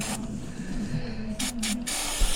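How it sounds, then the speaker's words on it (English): An aerosol can of release spray hisses in steady bursts onto seized Allen bolts on a V6 Audi 80 engine, close and loud, with short gaps between sprays. "And release spray, because they're going to be a bugger"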